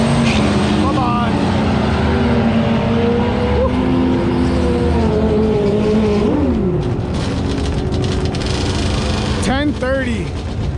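A turbocharged 1993 Ford Mustang coupe with a GT40 engine roars down a drag strip, loud and sustained, its rising and falling engine note blending with crowd noise and tire squeal as people talk over it.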